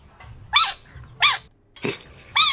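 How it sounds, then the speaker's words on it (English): A squeaky toy frog gives three sharp, high squeaks at even intervals, plus one shorter, duller squeeze, loud and close with no voices. "Wait, frogs can squeak like that?"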